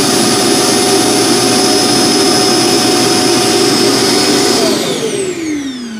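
An iRobot Roomba j9+ base auto-empties the robot's dust bin with a loud, steady, close-up suction roar and a high whine that runs for several seconds, then winds down at the end.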